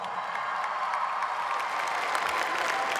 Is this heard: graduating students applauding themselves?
yes